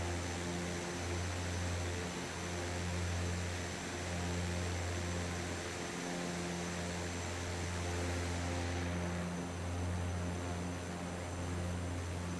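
Airbus A400 in Microsoft Flight Simulator 2024, a steady propeller and turboprop hum with a deep throbbing pulse under a broad rushing noise, constant and moderate in level for the whole stretch.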